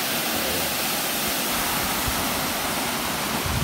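Sorsogon Falls pours as a waterfall, a loud, continuous broadband roar of rushing water heard close and unbroken, with no voices.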